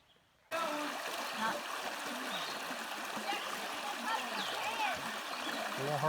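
Creek water at a campsite, a continuous babble and trickle with occasional splashes from people playing in the water, heard from a short distance after a quiet start.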